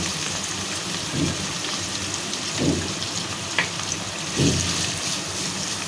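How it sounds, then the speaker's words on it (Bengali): Onions frying in hot oil in a wok while crab is cooked, a steady crackling sizzle with a few soft stirring bumps, moderately close and without speech. "কড়াইতে তেল গরম হয়ে গেছে, যেহেতু ভুনা করব পেঁয়াজটা একটু বেশি দিব।"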